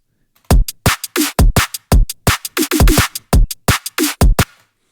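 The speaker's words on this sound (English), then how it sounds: "if we speed our breakbeat up to drum and bass speed" A breakbeat loop sped up to drum and bass tempo, with punchy kicks and bright, snappy snares in a fast, busy pattern, loud and dry, ending after about four seconds.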